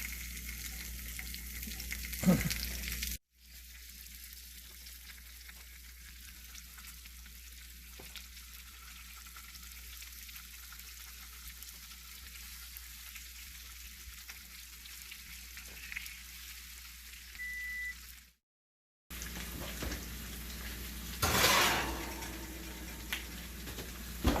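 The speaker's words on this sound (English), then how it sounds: "You hear that sizzle?" Chicken sizzles steadily in a hot cast iron pan, a continuous frying hiss with a couple of brief breaks.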